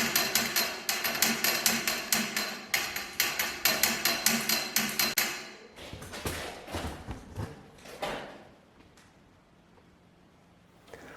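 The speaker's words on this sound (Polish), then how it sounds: "Rozłożymy sobie teraz podpory do pełnej rozpiętości." Parkside telescopic support props being extended to full span, giving a fast run of loud metallic clacks in rapid rhythm, then scattered knocks and rattles that fade out.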